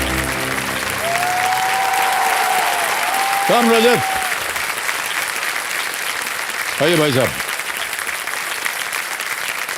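A studio audience on Kaun Banega Crorepati Season 14 gives contestant Rajat Sharma loud, steady applause that lasts the whole stretch, while someone speaks briefly over the clapping.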